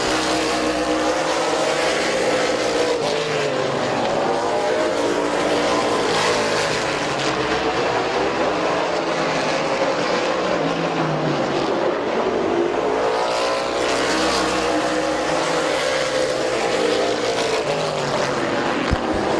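Race cars roaring around the oval at Midvale Speedway, a loud continuous engine drone that swells and fades as the pack laps, with a faint voice in the background.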